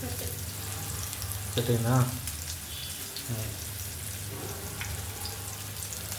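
Tuna fish fries in a pan with a steady, moderate sizzle. A voice speaks briefly over the frying, and a few louder bursts break up the hiss.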